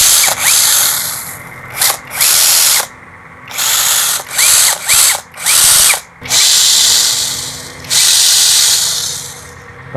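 A power drill bores into solid metal in repeated loud, harsh bursts, whining at full speed between short pauses and stops, close by with no talking.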